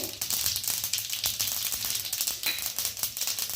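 Cumin and fenugreek seeds sizzle in hot oil for a Marathi raw mango kayras, a steady crackling fry with small pops, close and continuous.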